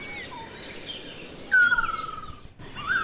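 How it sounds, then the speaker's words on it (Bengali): A clear, loud descending whistled call of a ruddy kingfisher rings out once in the Sundarbans mangrove forest, with softer chirps and a faint insect hum in the background. "আমাদের দেশের দুর্লভ প্রজাতির লাল মাছরাঙা"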